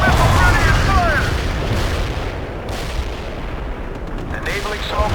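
Heavy artillery and missile fire in the video game World in Conflict rumbles loudly and continuously, dense booming battlefield noise with a voice speaking partly over it at the start.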